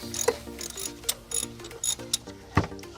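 A ratchet clicks in short bursts while bolts are loosened on a Honda Civic radiator fan, rapid pawl ticking close by with brief pauses between turns, no voices.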